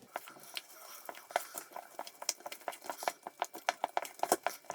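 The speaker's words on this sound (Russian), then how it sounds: "И теперь берем тесто и перемешиваем его." Waffle batter being stirred in a bowl, a close run of quick wet slaps and utensil taps against the bowl that speed into a steady rhythm.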